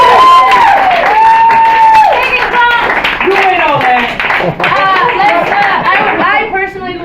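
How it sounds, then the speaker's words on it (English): Audience at a poetry showcase applauds and cheers continuously, loud and close, with crowd voices and whoops layered over the clapping throughout. "let's go ahead and have a round of applause for Sean."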